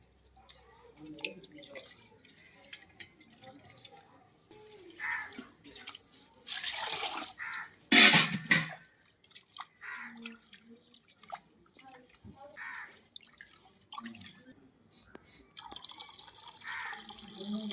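Rice being washed by hand in water, with soft splashing, dripping and swishing in bursts and one sharp louder splash, heard close up among quiet household sounds and faint talk.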